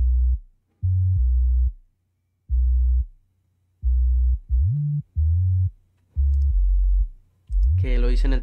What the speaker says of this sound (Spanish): Es una onda senoidal.